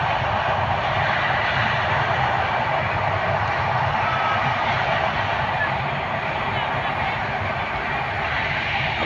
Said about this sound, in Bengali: ট্রেনটা দেখেন, এই ট্রেন।